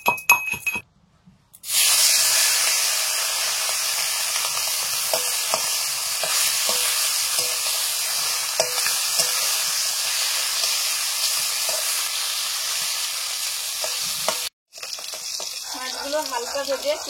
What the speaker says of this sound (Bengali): কড়াইটা গরম হয়ে গেছে, সর্ষের তেল দিলাম মাছগুলো ভেজে নেওয়ার জন্য।